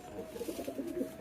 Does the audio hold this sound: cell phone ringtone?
no